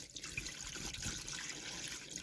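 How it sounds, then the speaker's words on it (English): Antifreeze poured down the sink drain into the trap of a Casita RV during winterizing makes a soft, steady trickle and splash of liquid, close but quiet, lasting a couple of seconds with no talking. "So I'm going to pour a little bit of this antifreeze and make sure it gets into that trap"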